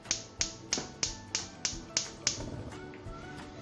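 A gas stove igniter clicks eight times in a quick, even series, close and sharp, until the burner catches and the clicking gives way to a soft, steady hiss.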